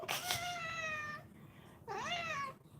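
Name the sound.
cat meowing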